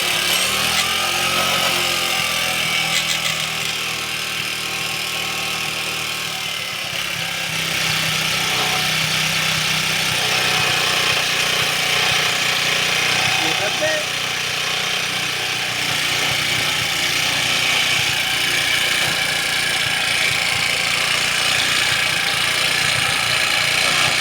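A 70cc motorbike with a battery charging fault and rectifier wiring issue starts and runs close up, its engine rising into sustained revving with a buzzing, rattly drone throughout.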